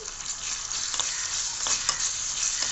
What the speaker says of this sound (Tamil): இப்போ நல்லா வதக்கிக்கலாம்